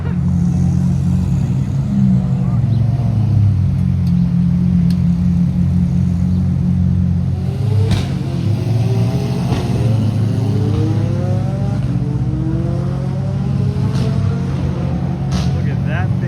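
A deep V12 roadster engine rumbles and revs nearby at a supercar meet, its pitch rising and falling in sweeps, with faint voices in the background.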